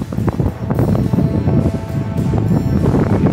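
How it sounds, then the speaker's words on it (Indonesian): Strong wind buffets an outdoor microphone near the Pandansimo bridge construction site in Yogyakarta, a continuous loud low rumble with gusty surges throughout and no other clear sounds. "Angin sangat besar."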